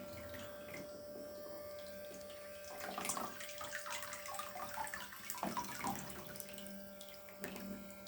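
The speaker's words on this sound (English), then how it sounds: "the water is not going into the water, it's squirting up in the air." Toy water jet boat in a bath, its jet squirting water up into the air: steady splashing and trickling over a constant mechanical hum, with irregular louder gurgles and spatters close by.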